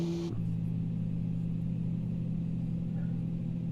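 Steady airliner engine drone in Microsoft Flight Simulator 2020 on a Xi'an to Shanghai flight, a constant low hum held throughout after a brief higher tone cuts out at the start.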